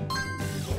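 A bright ding chime from the Paw Patrol: On a Roll! video game as a golden paw print is collected, a short tinkling tone over steady game music.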